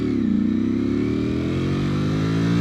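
A Ducati V4R motorcycle's V4 engine revs hard and steadily, a loud, close, continuous snarl whose pitch climbs and holds through the whole stretch, with no talk over it.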